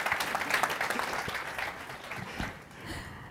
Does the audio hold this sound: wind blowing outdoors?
no